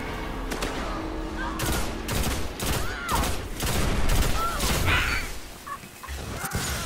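Rapid bursts of gunfire from the Red Death weapon in a video game after Update 1.1.1, rattling out in clustered volleys at range against a busy battle backdrop, fairly loud throughout.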